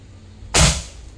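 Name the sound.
gun firing a shot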